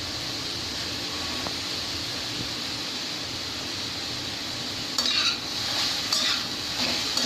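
Cabbage and green capsicum cooking in a pan give a steady close sizzle, then a spoon stirs them with scraping and clinks against the pan near the end, with no voices.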